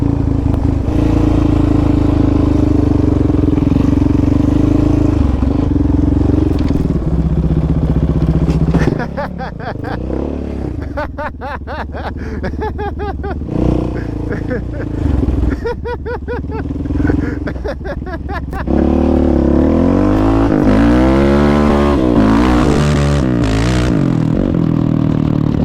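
An off-road vehicle at Lakeview OHV Park climbs over a teeter-totter obstacle, its engine loud and close, droning and revving with rattling clatter as it crawls over and tips, with brief voices underneath.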